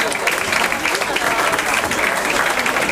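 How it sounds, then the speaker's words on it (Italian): Loud, dense audience applause at an Italian event, continuous clapping from a large crowd holding steady from start to finish. "l'applauso."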